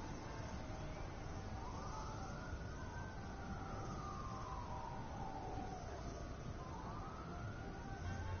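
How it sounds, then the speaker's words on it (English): Police sirens in the video game Infamous Second Son, a wailing tone that rises and falls slowly under steady background noise, heard faintly at a distance with no speech. "Reg, I'm hearing sirens, man."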